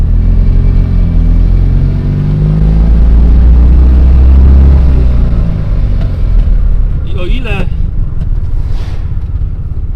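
A Fiat 126p Maluch gathers speed, its small engine a loud, rough low rumble rising in pitch through the gears from inside the cabin, with someone talking over it.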